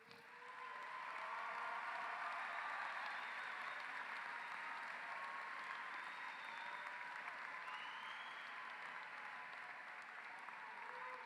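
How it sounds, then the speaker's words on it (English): A large audience at a high school graduation ceremony applauding in a hall, a dense sustained roar of clapping that swells quickly and holds steady for about ten seconds before easing slightly, no talking. "if you would stand and let's give them a round of applause"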